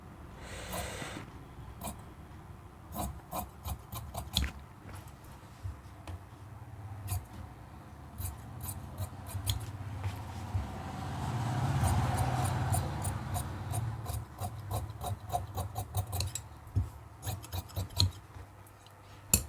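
Scissors cut through cloth for a two-piece katori blouse, with many crisp snips in uneven bursts and a stretch of soft rustling fabric handling in the middle, close and clear.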